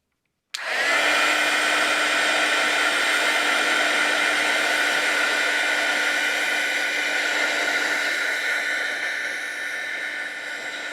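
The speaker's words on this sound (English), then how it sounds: "I'm going to hit this with my heat tool just to make sure that all the leaves are dry." A craft heat tool switches on abruptly and blows steadily to dry watercolor leaves painted with Karin markers, a close, loud, even whirring hiss with a constant hum that holds to the end without talk.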